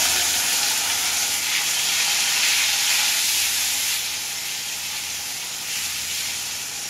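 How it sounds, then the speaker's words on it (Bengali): Chopped tomato goes into a pan of onions fried until reddish with garam masala, setting off a loud, steady sizzle and hiss that eases slightly toward the end, with no talking. "এবার আমি একটা কাটা টমেটো দেবো।"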